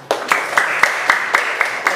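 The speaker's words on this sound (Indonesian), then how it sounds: "Tepuk tangan." Students in a classroom clap their hands together in a steady, even rhythm, about four sharp claps a second, close by and moderately loud, with no one speaking over it.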